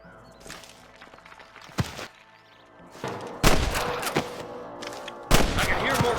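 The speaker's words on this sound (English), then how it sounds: "I can hear more gunshots." Gunfire in the Western video game Red Dead Redemption: several loud, sharp shots at irregular intervals, the last two bursts heavy and booming, with scattered softer thuds and footstep-like taps in between.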